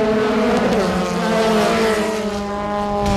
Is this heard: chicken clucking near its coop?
no